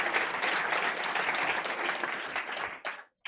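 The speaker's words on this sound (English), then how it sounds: "give her a round of applause." A dense round of clapping from a start-up event audience, steady and loud, then quickly dying away at the end.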